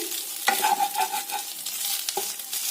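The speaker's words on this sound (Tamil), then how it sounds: "நம்ம வந்து இப்போ நல்லா கிண்டிகிட்டே இருப்போம்" Halwa made from leftover rice being stirred in a pan over a low sizzle, with soft scraping strokes and a couple of sharper clinks of the spoon against the pan, close and quiet, with no voices.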